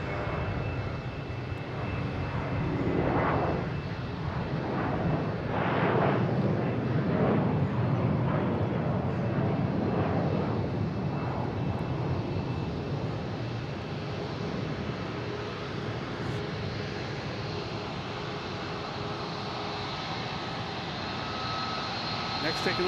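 An Alaska Airlines jet taxiing at Boston Logan airport gives off a loud, steady engine roar that fills the whole stretch, with a voice talking over it at times.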